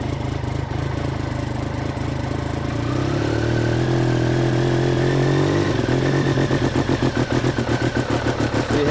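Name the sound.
engine revving roughly, faulty injectors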